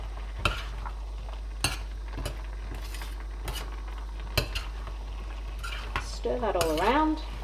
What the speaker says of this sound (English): Stir that all around.